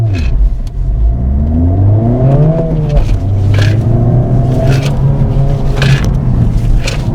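A car on Hoosier TrackAttack Pro tires launching hard from a standing start: a loud, close engine roar climbing in pitch through several rising sweeps as it revs up and shifts, with steady rumble underneath.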